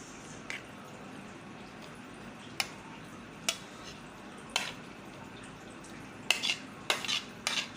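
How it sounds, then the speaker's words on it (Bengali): Chopped cucumber going into mashed chili in a bowl, a few faint, sparse clinks and soft knocks of utensils against the dish, separated by quiet gaps, clustering near the end. "এখন আমি দিচ্ছি শসা কুচি"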